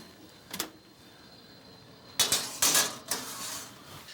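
A metal sheet pan clanks onto an oven rack in a kitchen, a few sharp metallic clatters and scrapes close by, isolated against quiet background.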